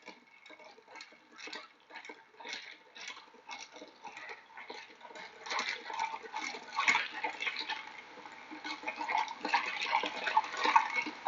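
Ice clinks and rattles as a Smoky Old Fashioned is stirred in a glass. The quick, uneven ticks start quiet and grow busier and louder toward the end, with no voice over them.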